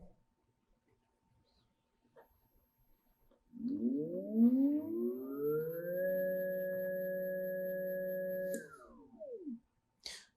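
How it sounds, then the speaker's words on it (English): A small drone motor whines up to a steady high-pitched hum, holds for several seconds, then winds down, heard close with no talking. "one of your motors should make some noise"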